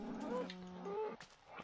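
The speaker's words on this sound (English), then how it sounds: "It's a lot of cows." Cattle mooing in the game Minecraft, a couple of short, fairly faint moos close together against quiet surroundings.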